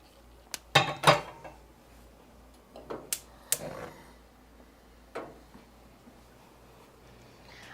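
A pot of stock set down on a stove: a few sharp metallic clanks and knocks close by, scattered bursts over a quiet room hum, with no voices.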